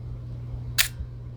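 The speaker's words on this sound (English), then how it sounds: "Quiet leaf shutter." A single quick, soft click from the leaf shutter of a Konica Auto S2 35mm film rangefinder firing close by, brief and quiet over a low steady hum.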